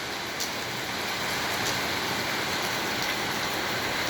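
Heavy rain pours down in Kuwait, a dense steady hiss of drops on surfaces, close and continuous throughout.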